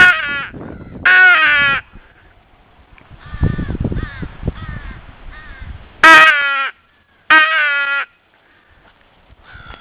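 Loud crows caw in repeated bursts close by, answering a Primos Power Crow call, with harsh multi-note calls separated by short pauses and quieter cawing between.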